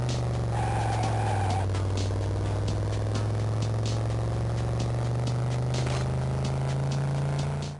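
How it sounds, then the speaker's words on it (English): Reused car engine sound effects from the Game Boy Advance port of Driver 3, a loud, steady, buzzy low drone that barely changes pitch, with crackly static and brief scrapes over it. "even some sound effects like the car sounds have been reused here"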